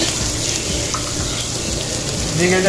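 Ingredients for a shark fish puttu sauté in a pan with a steady, close sizzle that runs the whole time, and a slight rise in the frying near the end.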